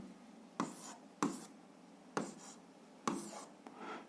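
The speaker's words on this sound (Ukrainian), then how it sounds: "Пишемо відповідь." Pen scratching out an answer on paper during an algebra exercise, four separate bursts of writing strokes, close and fairly soft, each a short scribble followed by a pause.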